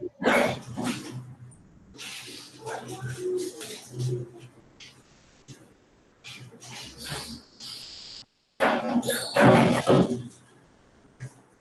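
Pet dog at home barking in short loud bursts nearby, with quieter gaps and a sudden louder burst near the end, while a person speaks briefly in between.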